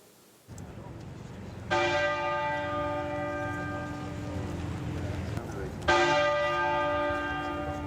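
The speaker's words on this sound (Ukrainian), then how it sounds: "Дзвін Вестмінстерського аббатства лунає щохвилини, аби відзначити кожен видатний рік життя її величності." Westminster Abbey's church bell tolls for Queen Elizabeth II, each strike a clear ringing stroke that hangs and decays slowly; two strikes several seconds apart, loud over a low outdoor crowd murmur.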